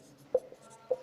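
Chalk or marker writing on a board gives two short, sharp taps or squeaks about half a second apart, with faint scratchy strokes between them in a quiet room.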